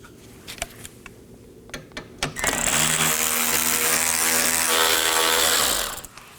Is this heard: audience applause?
no